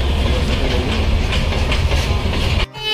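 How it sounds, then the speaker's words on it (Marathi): A passenger train to Mangalore, the Matsyagandha Express, rolls steadily with a continuous rumble and rhythmic clatter of wheels, loud and close, cutting off abruptly near the end. "आता ही ट्रेन जाते चालली मँगलोरला"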